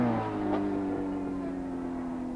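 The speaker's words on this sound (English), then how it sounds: "Wants to punch out hard with a big V4 four-stroke" Big V4 four-stroke racing motorcycle accelerating hard during a 1983 Swann Series road race at Oran Park, a loud sustained engine whine rising steadily in pitch, close and continuous with no talk.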